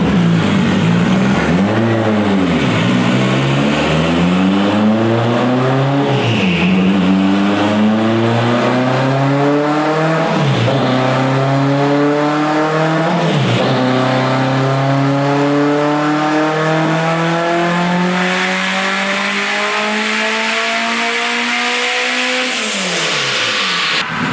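Honda Civic engine on a dyno, turbocharged, revving hard through repeated rising pulls with brief dips between, loud and close throughout, ending as the revs fall away.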